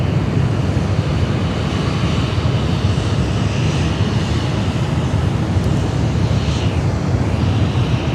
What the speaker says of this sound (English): Yeah, beautiful Delta A350.